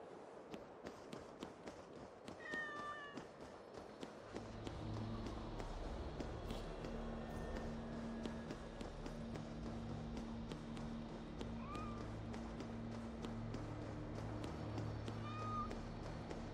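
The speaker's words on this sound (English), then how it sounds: "If these are Freya's cats" Cats meowing in Assassin's Creed Valhalla, several short distant mews over a steady game ambience with a low droning tone, soft rustling movement throughout, no talking.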